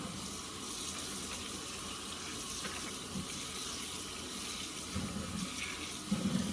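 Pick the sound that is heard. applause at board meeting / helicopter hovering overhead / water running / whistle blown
water running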